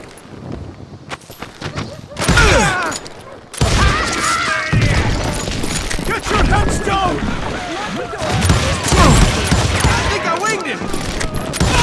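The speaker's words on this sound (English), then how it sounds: "They're shooting in the street!" Rapid gunfire in a frontier town street in Call of Juarez: Gunslinger, loud bursts of shots and booms that overlap and echo, with a brief quieter gap early on.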